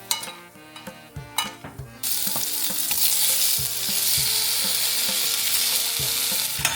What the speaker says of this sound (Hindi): और अब कर लेते हैं इन्हें फ्राई।